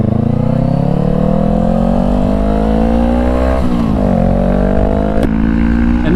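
A Honda CBR500R motorcycle with a full exhaust revs loudly and close by, its engine note climbing steadily, dipping briefly, and then rising again.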